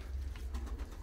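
Pigeons coo low and soft at close range in a loft, a short murmuring call over faint background noise.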